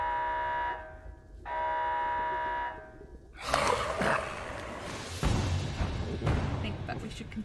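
Two steady bursts of a buzzing lab alarm from a horror sound set sound first, then give way to louder crashing, explosive impacts and rumbling. A voice speaks over part of it.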